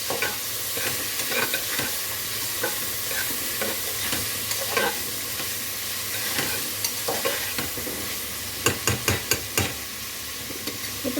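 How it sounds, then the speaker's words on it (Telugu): Chicken and egg curry sizzles steadily in a pan over high flame, with a dense constant fry broken by sharp scrapes and taps of stirring, including a quick run of knocks near the end. "అంతా హై ఫ్లేమ్లో పెట్టి దగ్గరే ఉంటాం కాబట్టి హై ఫ్లేమ్లో పెట్టి మగ్గించుకోవచ్చు"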